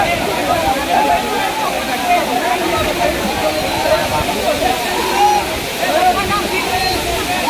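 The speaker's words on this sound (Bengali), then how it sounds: "সবাই খুব আনন্দ নিয়ে গোসল করতেছে ঝর্ণার পানিতে।" Khoiyachora waterfall roars loudly and continuously as people bathe beneath it, with voices and splashing mixed into the steady rushing water.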